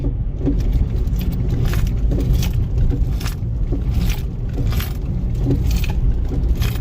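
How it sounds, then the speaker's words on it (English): Front suspension of a 2012-or-later Chevy Sonic rattles and clunks as the steering wheel is shaken left and right, a loose metallic jangle over low rumbling, close and fairly loud. "If I shake the wheel left and right,"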